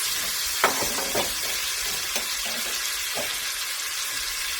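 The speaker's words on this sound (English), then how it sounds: "I'm going to add about 3 good-sized tablespoons of butter to this." Butter melting in a pot as the base for potato soup gives a steady, fairly soft sizzle with a few light clinks or stirs, and no talking.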